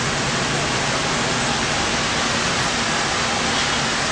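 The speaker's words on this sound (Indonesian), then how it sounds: "Suasana hujan di kota Mekah di sekitar atau kami menginap." Steady heavy rain in the city of Mecca near lodging, a dense, even hiss of pouring water filling the whole clip with no breaks.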